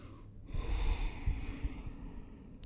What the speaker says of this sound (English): really breathing into the back of your rib cage